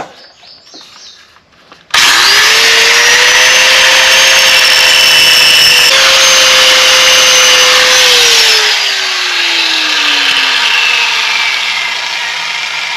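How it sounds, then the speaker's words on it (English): An angle grinder works on the center blade spindle of a 52-inch Wright Stander mower, spinning up abruptly, running loud and steady with a high whine, then winding down as its pitch falls. "I got my angle grinder."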